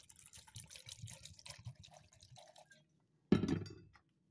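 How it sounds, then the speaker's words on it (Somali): Cold, iced water is poured into a glass for a beet or carrot drink, first as soft irregular trickles and drips, then after a short silence a brief louder gush. "waa kan biyaan ku shubayaa"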